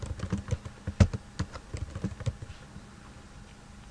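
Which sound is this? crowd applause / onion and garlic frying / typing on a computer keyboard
typing on a computer keyboard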